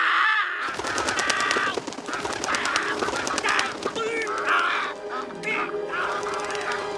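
Seagulls squawk and cackle in a SpongeBob animatic, a swarm of harsh repeated bird calls rising in bursts, fairly loud with other cartoon sounds around them.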